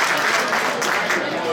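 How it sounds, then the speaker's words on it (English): An audience at an evening inaugural reception claps in a brief, dense burst of applause that stays close and loud, with voices mixed in. "Clap 3 times if you hear my voice."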